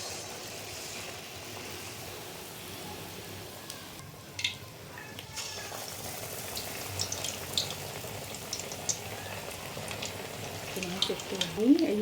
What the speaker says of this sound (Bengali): তো আমি এবারে বাকিগুলো ভেজে নিচ্ছি।